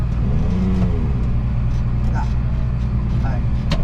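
A Massey Ferguson 2725 tractor engine runs steadily at a low, even rumble around 1400 rpm, with people talking faintly over it.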